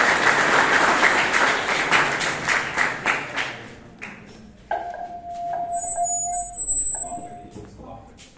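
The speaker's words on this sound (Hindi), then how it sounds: "सर के लिए तालियों के साथ" Audience clapping for a guest industrialist at a polytechnic gathering, dense applause for about four seconds that then fades, followed by electronic tones and a voice.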